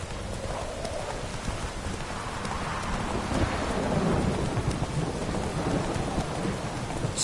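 Roach the horse gallops through a thunderstorm in The Witcher 3, steady clip-clop of hooves under continuous rain and rolling thunder, loud and close throughout.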